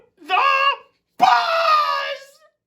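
A voice imitates a pigeon screaming, a children's picture-book bird, in two loud, drawn-out wailing cries separated by a short pause, close and alone.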